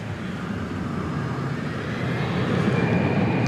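A jet airliner takes off at DFW Airport at night, a broad, steady rumbling roar heard from a distance that swells slightly toward the end.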